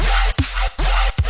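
A Serum synth dubstep bass with FM from oscillator B left audible gives a harsh, loud, metallic buzzing tone in three pulsing notes separated by short gaps, with no voice.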